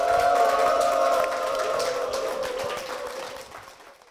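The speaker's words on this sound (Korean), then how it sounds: "박수로 모시겠습니다" A church audience applauds to welcome a pastor's wife as a guest, a soft scattered clapping over a sustained musical tone, fading gradually toward the end.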